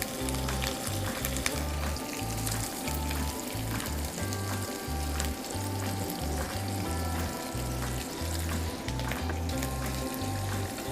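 Parsley goes into a hot frying pan while pasta with broccoli and sardines is being cooked, giving a steady close sizzle and crackle with a rhythmic low pulsing beneath it throughout.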